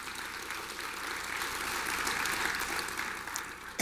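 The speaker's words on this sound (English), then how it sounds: "You can clap to that." Audience clapping at a university address fills the space with steady, dense applause that holds at an even level throughout.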